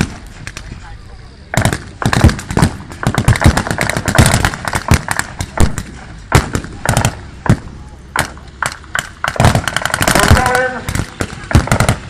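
Small arms fire bursts out at a tank battle display at Bovington, with rapid cracking shots in uneven bursts, loud and close, while a commentator speaks over it.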